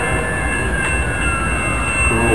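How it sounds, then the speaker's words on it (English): A train passes close by on a railway, a loud continuous rumble with rolling wheel noise and faint high squeals, heard alone without talk. "It's hard to get on with this train in the way."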